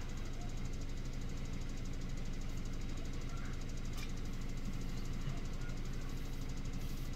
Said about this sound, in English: I've had this engine running for like over an hour